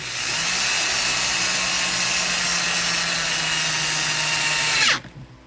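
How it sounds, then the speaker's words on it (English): A power drill boring a hole whines steadily at high speed for several seconds, loud and close, then spins down and stops abruptly. "I'm just kind of going to let the drill bit do its job"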